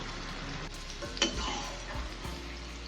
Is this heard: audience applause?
no